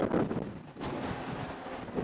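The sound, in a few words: wind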